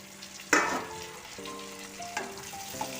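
Tomatoes and green chillies tipped into a pan of softened frying onions, setting off a sharp burst of sizzling that settles into a steady crackle with light stirring and a few soft utensil knocks.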